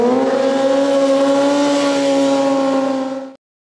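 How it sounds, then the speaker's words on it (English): A motorcycle accelerating hard toward about 35 mph for a wheelie, a loud sustained engine note holding a steady strained pitch up close before cutting off abruptly near the end. "I bring it up to probably about 35 miles an hour, drop the throttle, tug up."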